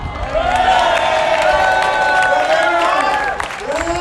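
Crowd cheering and whooping at an Australia versus England jousting tournament, a loud, sustained mass of voices with a tonal ringing layer running under it throughout.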